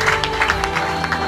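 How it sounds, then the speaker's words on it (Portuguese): Church congregation applauding together, a dense steady patter of many hands filling the room, with a voice faintly mixed in beneath the clapping. "Vamos aplaudir fortemente"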